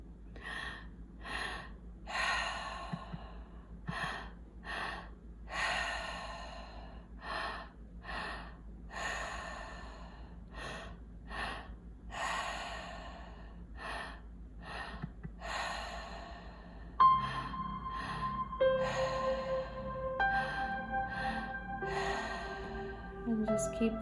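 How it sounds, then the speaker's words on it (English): Deep breathing during a breathwork session, with repeated loud inhales and exhales in a steady rhythm. Music joins in later. "just keep breathing and dropping into the breath"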